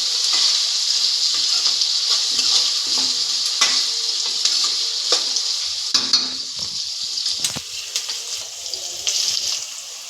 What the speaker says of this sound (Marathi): परत एकदा परतून घेऊया भाजी।